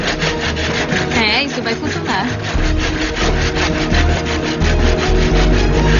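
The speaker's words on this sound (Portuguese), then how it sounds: "Ele começou a cortar o crânio e tá ficando mais difícil agora porque os dentes estão atravessando as laterais do crânio." A fine-toothed handsaw cutting through a skull gives steady rhythmic back-and-forth rasping strokes, close and loud, with a brief spoken remark early on.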